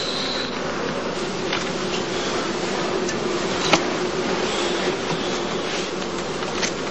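Honeybees buzz continuously at a heathland skep apiary in summer during the heather blossom, a dense, steady swarm drone with occasional closer passes and a faint tap.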